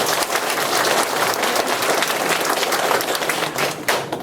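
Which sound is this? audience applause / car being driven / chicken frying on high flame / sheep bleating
audience applause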